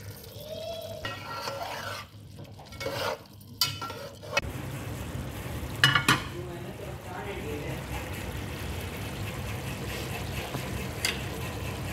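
Spiced masala with softened potatoes, tomato and yogurt fries in oil and is stirred in the pan. A continuous low sizzle carries a few sharper scraping stirs, with a voice faintly in the background.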